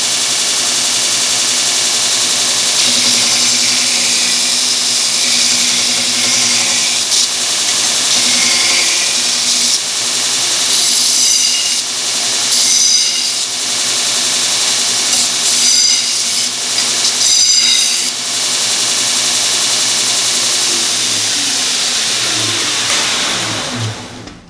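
A Northridge Tool 2x72 belt grinder grinding metal, a loud, continuous motor whine and abrasive hiss lasting over twenty seconds, rising and easing as the workpiece is pressed harder against the belt.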